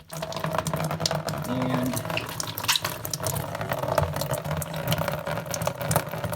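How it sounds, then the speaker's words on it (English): Water from a Maytag front load washer drain hose pours into a tub in a steady, splashy gush that runs throughout, with a brief spoken word over it. "I have positioned a tub to gather all the water."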